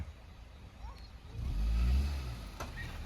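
Automatic car reversing while speeding up, its engine swelling into a low rising rumble for about a second before easing off, heard close by with no talk over it.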